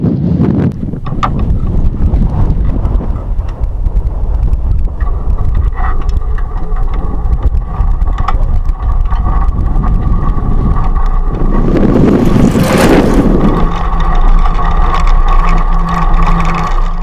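Strong wind roars and buffets the microphone without a break while a solar-panelled bicycle is ridden across the Sahara, loud and close throughout, with a brief louder gust near the end and no talk.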